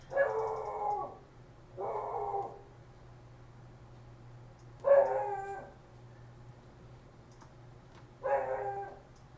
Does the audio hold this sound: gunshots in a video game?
no